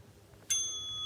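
A workout interval timer bell dings once during a lower-body strengthening session, a sharp bright strike that rings on with a sustained metallic tone after a quiet lead-in.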